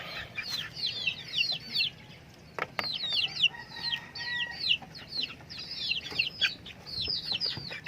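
Native chickens cluck in a farm pen, repeated quick bursts of clucks and chirpy calls from several birds, fairly close, with scattered bumps and handling noises between them.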